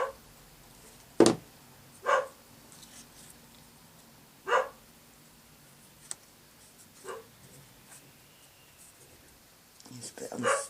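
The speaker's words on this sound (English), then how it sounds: "Oh, Alfie's barking." A dog barking indoors, several short separate barks spaced a second or two apart at moderate distance, with quiet room sounds and soft handling of paper between them.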